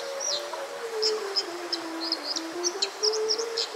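Bird song during a courtship display, with short high chirps and whistled notes repeating irregularly throughout, fairly clear over a steady low tonal hum.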